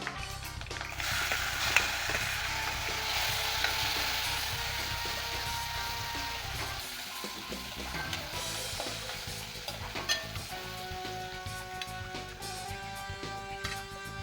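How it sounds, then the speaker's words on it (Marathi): Garlic and tomato fry in hot oil in a pan with a steady, moderate crackling sizzle. A brief pause is followed by lighter sizzling with faint clicks. "लसूण आता छान लाल झालेला आहे याच्यामध्ये मी टोमॅटो घालणार आहे"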